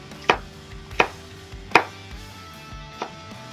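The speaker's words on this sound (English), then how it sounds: "I'll start by cutting it into thin strips like this." A knife slices steak into thin strips on a cutting board, four sharp separate chops at an uneven pace, close and alone.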